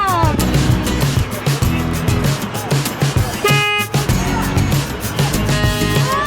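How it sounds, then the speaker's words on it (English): A crane truck's horn gives short toots at an outdoor truck show, standing out over a loud, busy background of crowd noise and engines while people talk nearby. "Do you want to honk the horn?"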